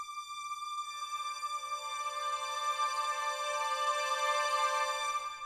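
A single sustained synthesizer note with a slow attack swells gradually into a bright, steady harmonic tone, moderately quiet and alone with no talk.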